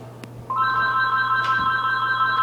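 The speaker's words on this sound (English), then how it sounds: "Answer the phone, bitch." A telephone rings with a steady electronic tone that starts about half a second in and holds continuously at moderate loudness over a faint background hum, with no voices.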